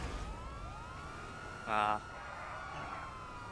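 Police sirens wail in the GTA V Online video game, faint wavering tones sweeping under a background drone, with one brief louder burst and a voice exclaiming over it.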